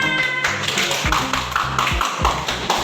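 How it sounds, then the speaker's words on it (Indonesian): Hands clap together in a classroom during a teaching session, a quick run of sharp, close claps repeating in an uneven rhythm, with no talking over them. "Tepuk tangan."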